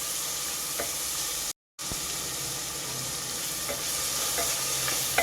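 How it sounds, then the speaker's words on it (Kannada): Onions fry in oil toward golden brown for mushroom pulav, a continuous close sizzle with a brief silent break and stirring scrapes, no talking. "ಈರುಳ್ಳಿ ಚೆನ್ನಾಗಿ ಫ್ರೈ ಮಾಡ್ಕೋಬೇಕು, ಗೋಲ್ಡನ್ ಬ್ರೌನ್ ಕಲರ್ ಬರೋವರೆಗೂ."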